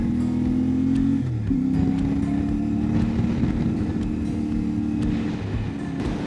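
CFMOTO 450MT adventure motorcycle ridden off-road on a dirt trail with luggage and ABS off, its engine droning loud and close with steady revs and a shift partway through, plus wind and gravel noise.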